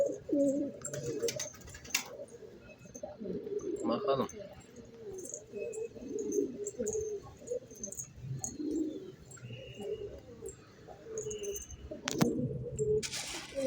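Soft pigeon cooing and rustling in an enclosed loft holding homing pigeons, with occasional chirps, clatter and a person speaking briefly in the background.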